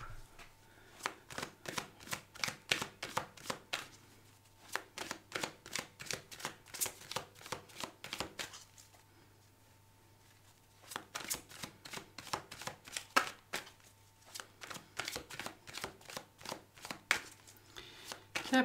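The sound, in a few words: shuffling tarot cards for a weekly reading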